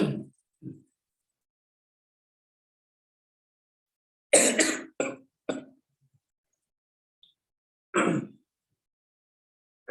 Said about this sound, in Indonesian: sedikit batuk ya.